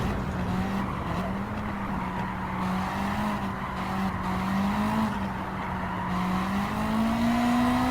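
A Garage RCR Honda Civic EG race car laps Tsukuba Circuit in Gran Turismo 7, its engine holding a steady droning pitch that rises and dips with throttle, with faint tire noise and no speech.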